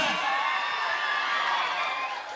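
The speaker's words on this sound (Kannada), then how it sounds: "ಸರಿ ಜೋರ ಚಪ್ಪಾಳೆ ಹುಲಿಗಳ." An audience at a stage comedy and music show cheers and whoops in a steady, bright roar of voices, with scattered clapping mixed in, loud and sustained before fading slightly at the end.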